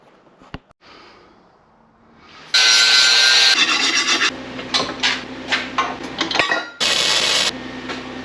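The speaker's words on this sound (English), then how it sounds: "I'm gonna get these cut to length, square the ends up." Metal pieces being cut to length with their ends squared off, ahead of welding for a trailer: two loud, harsh bursts of abrasive cutting, one long and one shorter, separated by quieter scraping and handling noises.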